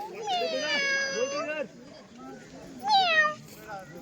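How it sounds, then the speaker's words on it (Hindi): A cat meows twice at a family gathering in a home, a long drawn-out meow followed after a pause by a shorter one, close and clear while people murmur and talk quietly in the background. "बिल्ली आ गई।"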